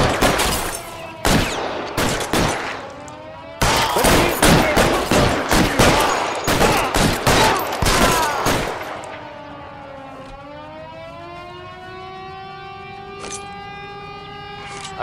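Dense volleys of gunfire crack through a shootout at an electroplating plant in L.A. Noire, loud and rapid for about nine seconds, then give way to a wailing police siren that rises and falls alone.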